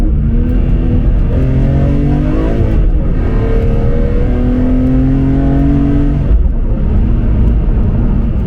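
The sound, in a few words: BMW M3 CSL car driving through a series of corners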